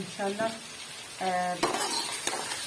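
Chicken and onions frying with masala in a pan, a soft sizzle under a voice, with a few sharp clinks of a utensil against the pan.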